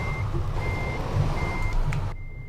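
Reversing alarm of a truck backing up in Euro Truck Simulator 2, steady repeated beeps over a low engine rumble, stopping near the end.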